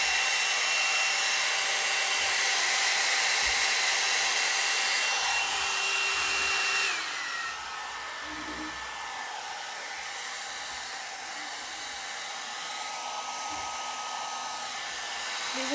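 A Le Volume 60 mm 2-in-1 volumizing brush dryer blows on short curly hair, a steady loud whooshing hum that drops to a lower setting partway through and continues alone without talk.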